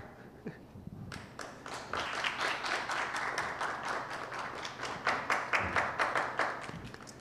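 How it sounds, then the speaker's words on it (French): Audience applause at a gathering of African students at ALU in Rwanda, starting with a few scattered claps, then swelling into steady clapping with distinct rhythmic hand claps standing out near the end. "J'aimerais qu'on applaudisse pour Newton."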